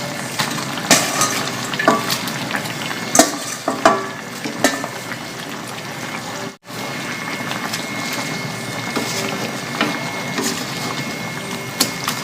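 Loud, steady sizzling of stir-fried T-bone beef in a pan as cabbage goes in, with crackling oil and scattered clatter near the cooking surface, and a brief dropout in the middle.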